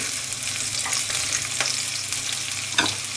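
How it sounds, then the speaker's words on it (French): Garlic stirred as it fries in a pan over lowered heat, a steady crackling sizzle with scraping stir strokes throughout, close and continuous with no talk. "Là, on va baisser un peu notre feu. Et on remue gentiment."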